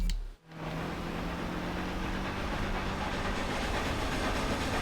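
A train passes in the Forza Horizon 2 racing game, a loud continuous rumbling rush with a faint steady hum that starts abruptly after a brief gap and holds steady throughout.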